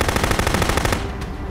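Machine gun fire in the video game Contraband Police: a rapid burst of about a dozen evenly spaced shots, loud and close, cutting off abruptly with a brief trailing echo and no talk.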